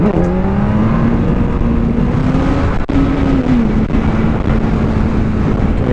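Kawasaki ZX-10R sport motorcycle accelerating through a wheelie on a road near a bridge: a loud, close engine note climbing and holding under heavy wind noise, with a short dip partway through.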